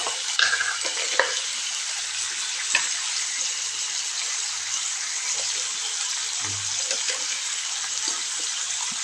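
Ingredients for a Kerala mango pulissery curry frying in a pan, with a steady soft sizzle, occasional stirring clicks and a few scrapes, moderately close and without talk.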